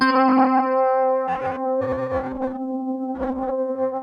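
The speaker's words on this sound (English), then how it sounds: "It does sound like interference, radio interference, kind of stuttery." A Hologram Electronics Chroma Console pedal set to its interference effect chops a sustained tone into stuttering, broken bursts with gaps between them, like radio interference, heard alone.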